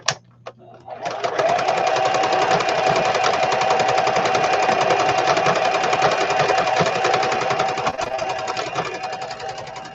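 A sewing machine stitching a fabric travelers notebook cover runs in a fast, continuous mechanical whir with rapid needle clatter, loud and close, starting after a brief pause and carrying on steadily to the end.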